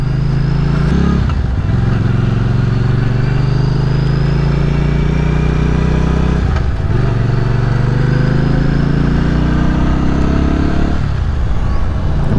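A Benda 500 Napoleon motorcycle rides at low speed, its engine a loud, close, steady drone with brief dips in pitch and volume about every five seconds, with no talking.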